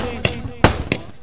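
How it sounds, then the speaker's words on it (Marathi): Firecrackers pop three times in quick succession, loud and sharp, as guests are welcomed at the S.P Group Chashak 2024 village cricket tournament in Mangrul. "फटाक्यांच्या आतिषबाजीने आदरणीय नवीन शेठ म्हात्रे साहेबांचं आगमन होत"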